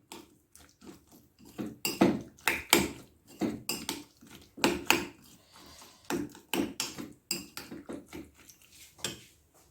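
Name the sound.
mixing almond gum into a falooda mixture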